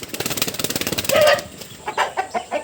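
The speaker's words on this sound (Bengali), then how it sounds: "এই যে মুরগিগুলো আস্তে আস্তে সব মুরগি কিন্তু দেখতেছেন নামতেছে" Chickens cluck in quick repeated bursts as they make their way down, then a louder squawk and a few scattered clucks follow nearby.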